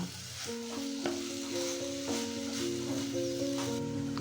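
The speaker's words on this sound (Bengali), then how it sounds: "সব কিছু একসাথে আবার ভালোভাবে নাড়িয়ে নেব" A banana stem curry with spices and a little sugar is stirred in a pan, giving a faint sizzle and occasional spatula scrapes beneath steady background music.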